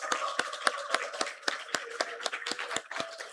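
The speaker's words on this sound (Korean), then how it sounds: "박수로 이들 환호로 환영합니다" Audience applause in a church gathering welcoming the children, a steady run of claps, some sharp and close, filling the room with loose uneven rhythm.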